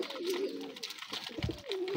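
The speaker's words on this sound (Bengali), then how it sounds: "এখানে সবগুলো কবুতর আমার খাবার খাইতেছে," Domestic pigeons coo softly while feeding, with two low rolling coos at the start and end and faint pecking and rustling between them, close and quiet.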